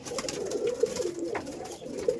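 A male and female pair of tippler pigeons cooing in low, throaty, rolling bursts that come in uneven pulses, close by and alone.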